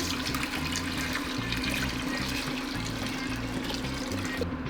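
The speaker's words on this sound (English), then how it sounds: "Now we're going to add water" Water pours steadily into a pot for a vegan Korean vegetable broth, a continuous gushing, splashing stream heard close and alone, with no talking.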